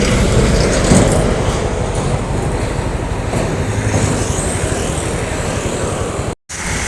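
A Sumbar intercity bus rolls past on the road, a loud, steady broadband roar of engine and tyres filling the whole stretch, with a brief dropout near the end.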